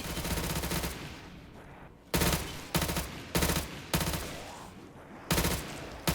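Mustang and Sally pistols blasting zombies in Black Ops 3 zombies mode on an Alexandria map, a loud sustained barrage followed by a string of heavy, evenly spaced shots with decaying booms between them.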